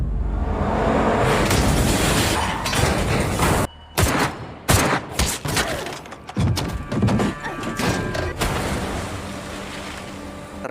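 Gunfire in a tense film scene, with loud bursts of shots and heavy thuds that stop briefly, then return as scattered impacts over a busy background mix.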